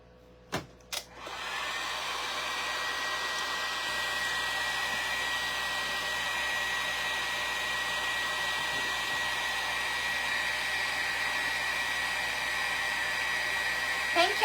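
A hair dryer runs steadily and loudly, drying DIY craft pieces, starting after a couple of brief knocks and holding an even, continuous whoosh to the end.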